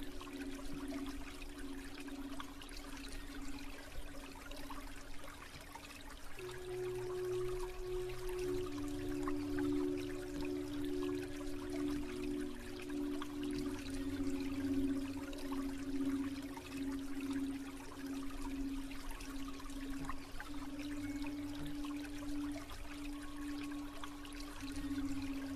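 Water flowing in a river, a soft steady trickle and stream that sits low and continuous, with faint tonal hums layered over it throughout.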